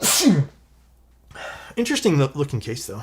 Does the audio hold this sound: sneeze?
yes